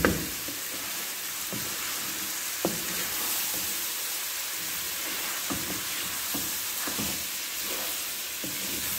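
Mash dal sizzles steadily in a pot while being stirred, with a constant frying hiss broken by occasional soft spoon knocks and scrapes against the metal, close by and without talk.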